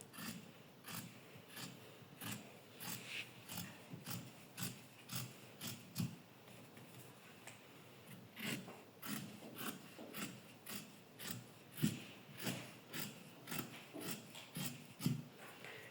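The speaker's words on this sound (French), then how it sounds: "Et on va découper tous nos morceaux de coutil et d'élastique comme ça." Scissors cutting through ticking fabric and elastic pieces, a steady series of quiet snipping crunches repeating about once per second, close and faint with no talk.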